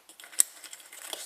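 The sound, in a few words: oil filter chain wrench slackening fuel filter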